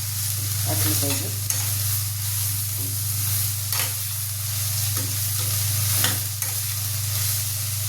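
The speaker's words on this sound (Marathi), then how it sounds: "भाज्या चांगल्या कोरड्यात करून घ्यायच्या" Chopped vegetables, spring onion and fenugreek among them, stir-fry dry in a pan for red chilli thecha: continuous loud sizzling with scraping stirs over a steady low stove hum.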